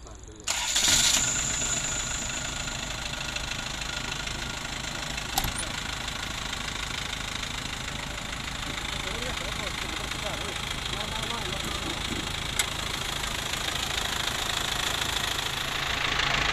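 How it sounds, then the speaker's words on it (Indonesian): A 2000 Isuzu Panther diesel engine starts up and settles into a steady idle, its low, even clatter running continuously and close throughout. "kita cek dulu mesinnya apakah ngobos apa enggak"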